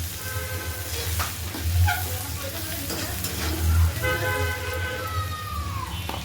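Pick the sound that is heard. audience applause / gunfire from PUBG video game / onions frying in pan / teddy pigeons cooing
onions frying in pan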